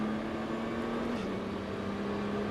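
Nissan GT-R 550 on a race track at La Ferté-Gaucher, engine droning steadily at near-constant pitch with a small dip midway, loud and continuous with no talking.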